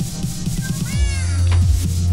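A cat meows in the Minecraft video game, a short rising-and-falling cry at the midpoint that stands clearly above a low, steady background hum.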